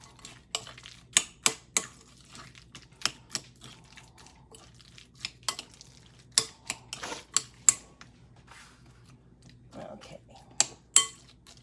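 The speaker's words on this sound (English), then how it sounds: "Get my spoon here and I'll stir these in." A spoon stirs a vegan chickpea and cranberry sandwich filling, giving sharp, irregular clinks and scrapes against the container over a quiet background.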